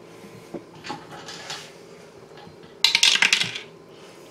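A die rolled for a tabletop board game rattles briefly across a table, a short cluster of bright clicks and taps at close range with no talking.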